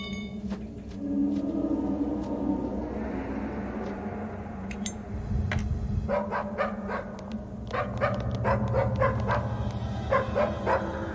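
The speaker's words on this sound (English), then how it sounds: "There's a fucking headless dog barking at me." A headless dog barks repeatedly in the Stygian horror video game, sharp yips and bow-wows in irregular bursts over a low ambient drone, fairly close and loud, with no talking.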